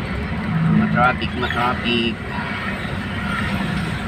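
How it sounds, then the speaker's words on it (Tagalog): Congested road traffic in Caloocan, heard from inside a moving vehicle, gives a steady engine drone and road hum with passing vehicles, and people talk over it. "Nako, dito ang traffic."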